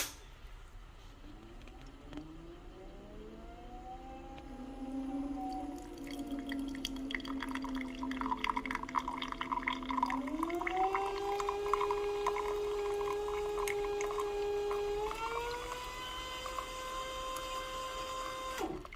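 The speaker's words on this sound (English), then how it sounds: "you can see the machine stops around 110 grams of water, and it just auto shut down" A VBM Domobar Super Electronic dual-boiler espresso machine with a gear pump dispensing water: a rising mechanical pump hum that steps up in pitch, with faint trickling and clicks, then cuts off as it shuts down automatically.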